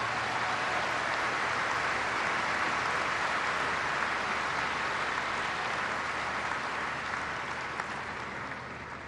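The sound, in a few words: audience applause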